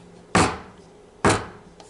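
A filled buttermilk pound cake pan is dropped onto a kitchen counter twice, giving two sharp, loud thuds about a second apart, with a faint third tap afterward.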